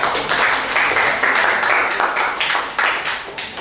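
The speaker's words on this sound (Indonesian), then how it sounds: "tepuk tangan untuk teman kita" Students in an Indonesian school classroom give a dense, steady round of applause that stays loud and close from start to finish, with no talking over it.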